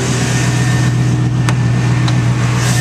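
A 2004 Chevrolet Silverado 1500 crew cab pickup with a lift and 4WD runs steadily after starting, its engine giving a loud, even drone throughout with no talking over it.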